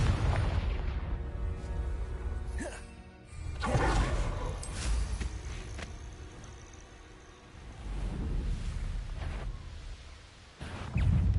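Repeated booming blasts from the Confringo fire spell in the Hogwarts Legacy video game, several heavy bursts spread over a busy game soundscape, loud and close.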